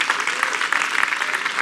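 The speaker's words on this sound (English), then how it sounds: "can we give Pastor Christian and Joanne and even the pastoral staff a big round of applause to honor them for what they're doing?" Dense round of applause from a church congregation honoring pastors and pastoral staff, steady and fairly loud throughout the short moment.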